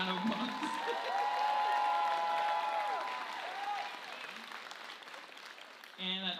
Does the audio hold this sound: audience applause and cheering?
yes